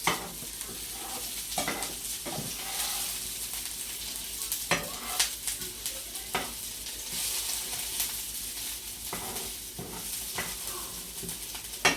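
Whole spices fry in hot oil as seasoning for Bengali masoor lentil dal, a steady close crackling sizzle with occasional sharper pops and stirring clicks from the pan, and no talking.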